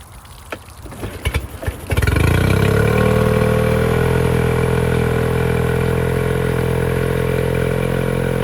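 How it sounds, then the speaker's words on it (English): A Honda BF15 outboard engine is started after a few clunks and rattles, then settles into a loud, steady running hum close by, left going for a warm-up so its oil flows freely. "I'm gonna run the engine for a minute or two to get the oil warmed up"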